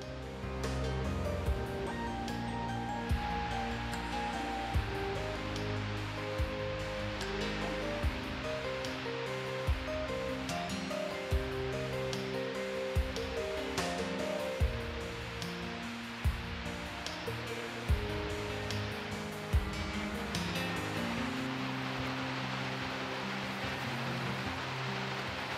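A broad waterfall in Iceland, nearly 30 metres wide, gives a steady, dense roar of rushing water that fills the whole stretch without a break, with music playing over it and no talk.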